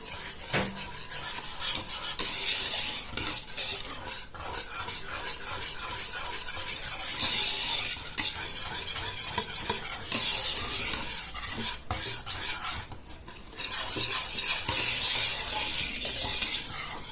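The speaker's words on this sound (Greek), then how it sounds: "προαιρετικά μία κουταλιά περίπου στα 50 γραμμάρια βούτυρο και θα ανακατέψουμε μέχρι να διαλυθεί το βούτυρο" A spoon stirs butter into hot pastry cream in a pot, making continuous scraping and swishing against the pan with soft sticky squelches, steady and close, no talking.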